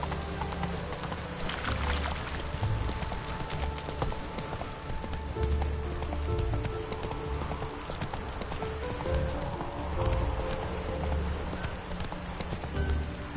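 Horse galloping in The Witcher 3 video game, with a steady, close run of hoofbeats in clip-clop rhythm over a low rumble and ambient game sound.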